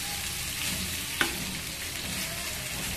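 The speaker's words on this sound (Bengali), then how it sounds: "এটাকে আস্তে আস্তে করে ভেজে নেব।" Mashed arum with mustard paste frying slowly in a pan, a close, steady sizzle with a single sharp utensil tap partway through and no voices.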